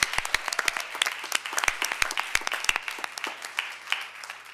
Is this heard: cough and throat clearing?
no